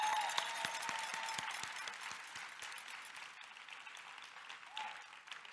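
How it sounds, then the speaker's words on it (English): Convention audience at a public mass meeting applauds steadily, a dense wash of clapping from a large crowd heard at a distance and fairly faint, slowly fading near the end. "Please let's give him a round of applause."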